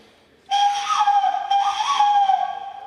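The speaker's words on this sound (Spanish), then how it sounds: "Es también un silbato de supervivencia" A sharp, bright survival whistle blast starts abruptly and holds steady for over two seconds, loud and close, wavering slightly in pitch.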